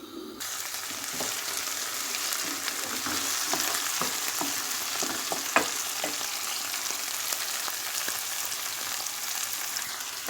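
Onions sautéing in a pan alongside other ingredients make a constant soft crackling sizzle with a few light stirring ticks, steady and fairly quiet, with no voices.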